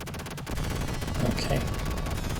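Rapid Vulcan cannon fire from Sega's G-LOC Air Battle on the Mega Drive: a fast, steady stream of gritty shots alongside game music and engine drone, holding at an even loudness throughout.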